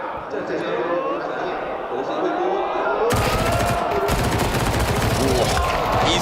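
SMG gunfire in a Counter-Strike 2 match at the Shanghai Major breaks out in rapid, dense bursts during the second half, over crowd noise with a caster talking throughout.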